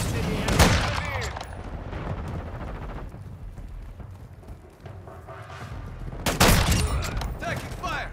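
Bursts of loud gunfire and explosive blasts in a Call of Duty: Modern Warfare II team deathmatch, a heavy volley at the start and another near the end, with quieter battle noise between.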